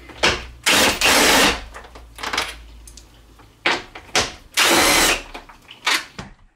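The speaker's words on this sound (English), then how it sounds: "we'll take off these two 10mm bolts right here" Bursts from a power tool loosening two 10mm bolts on a Jeep's intake, roughly eight short whirring runs of varying length separated by brief pauses and faint clicks, loud and close.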